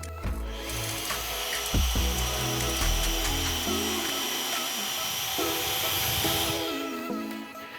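A Samsung Jet 70 stick vacuum cleaner runs steadily at close range, a continuous whirring motor hum with a bright hiss of airflow, nearly level throughout, with small shifts as the head moves and no talking.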